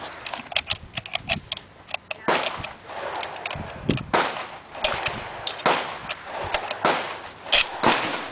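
Three rifle shots fired at a 100-yard target with a peep-sighted bolt-action army rifle, sharp loud cracks spaced across the outdoor range amid wind and handling noise.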